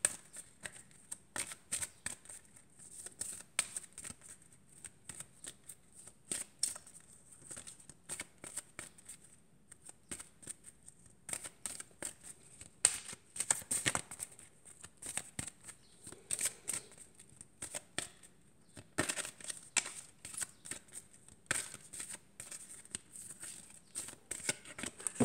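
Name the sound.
shuffling a Tarot de Marseille card deck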